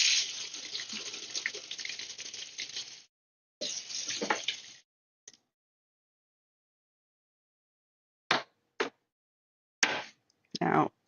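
A coffee maker brews with a steady, close hiss of flowing water for about three seconds, then a shorter burst, before falling quiet apart from a few brief spurts and clicks near the end.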